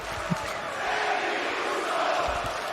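A wrestling crowd cheers and roars in a broad, sustained wash of noise, swelling slightly midway, loud but somewhat distant.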